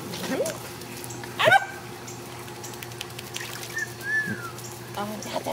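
A puppy gives a few short whimpers and high yips, spread out over several seconds at close range, with soft background noise and faint voices around it.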